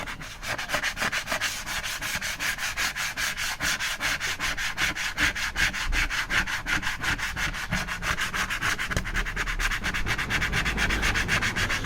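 A powdery coating is scraped off a tin cloth jacket in rapid, rhythmic rasping strokes that go on steadily throughout, close up with no talking.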